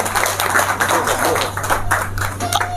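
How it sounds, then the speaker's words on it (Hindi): Hands clap at a Delhi Fire Service retirement farewell party, a loud, close burst of clapping from a gathered crowd that lasts the whole moment, with a steady low hum beneath it. "तालियां बजाओ।"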